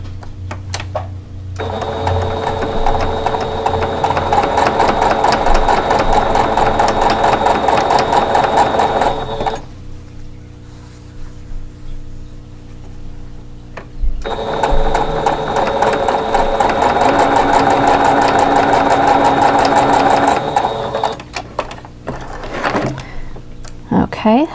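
A sewing machine chain-piecing fabric squares for a quilt block runs in two long, steady bursts with a pause between, a close mechanical whir over quiet background.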